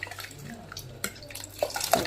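Mutton soup mixture being stirred with water in a pot, giving soft watery sloshing with a few small clinks and splashes, a little louder near the end.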